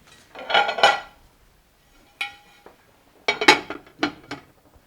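A lid placed over a pan of curried cauliflower, metal clattering and clinking loudly in a few separate bursts with short quiet gaps between them.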